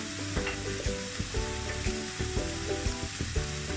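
Prawns frying in a pan with salt and turmeric, giving a steady, close sizzle with intermittent stirring knocks and scrapes throughout and no talk.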